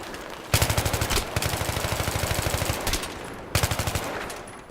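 Rapid automatic gunfire in the video game Battlefield 3, loud bursts of machine-gun fire with short pauses between them, dominating the scene with no talk.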